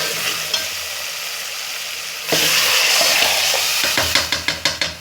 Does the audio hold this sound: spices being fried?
yes